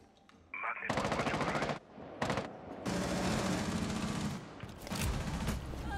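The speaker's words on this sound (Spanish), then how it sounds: "¿Por qué los disparos a la puerta?" Rapid bursts of video game automatic gunfire, shots aimed at a door, come in several long volleys separated by short gaps, loud and close, with occasional voices.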